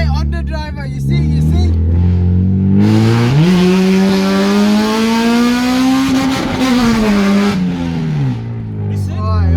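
Honda Civic Type R fitted with an M2 Hornet exhaust and solid engine mounts revving hard, loud and close, pitch climbing, holding high, then dropping back, with brief voices at the start and end.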